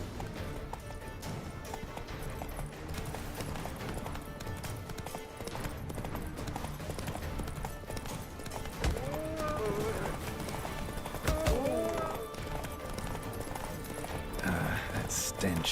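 Roach, Geralt's horse in the video game Witcher 3, gallops with steady clip-clop hoofbeats amid game music and ambience, with a brief whinny partway through and voices talking over it.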